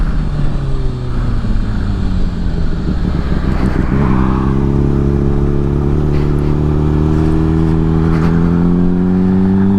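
A 2008 Honda CBR 600RR sport motorcycle rides through an open neighborhood, its loud inline engine droning steadily close up, pitch sagging then climbing again after a shift around midway, with steady wind rush throughout.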